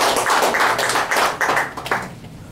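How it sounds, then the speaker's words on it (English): Applause from a crowd, a brief burst of clapping hands that swells and then thins out over a couple of seconds. "Jim Eckstrom, let's give him a round of applause."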